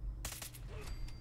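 Rapid bursts of M4 rifle fire in the modded Fallout 4 video game during a fight with gunners inside the Mass Fusion building, a quick cluster of sharp shots over steady background noise.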